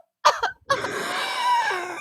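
Exaggerated, theatrical coughing in a cough-off contest: a short harsh burst, a brief pause, then a longer strained, rasping cough that trails off, close and loud.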